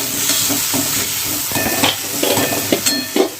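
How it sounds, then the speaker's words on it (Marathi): Tomatoes frying with onions in a pan for a potato and spinach dish, a loud, close, continuous sizzle broken by sharp spatula scrapes and clicks toward the end, with no voices. "यामध्ये आता आपण घालूया टॅमॅटो टॅमॅटोला पण चांगला आपण फ्राय करून घेऊया"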